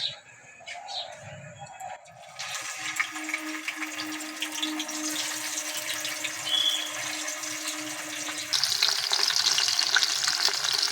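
Small bata fish dropped into hot mustard oil in a frying pan, starting quiet with faint clatter before a bright, steady sizzle builds and swells louder near the end, close by, with a faint background hum.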